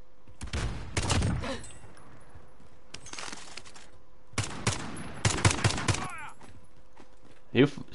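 Video game gunfire on PS4, several crackling bursts of rapid shots separated by quiet gaps, fairly close, with a final sharp shot near the end.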